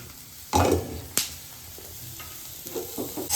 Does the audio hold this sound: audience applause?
no